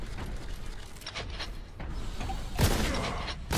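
Shotgun blasts in the Warhammer 40K Boltgun video game, booming repeatedly over a busy, noisy battle din, with a heavy, louder shot near the end and no talking.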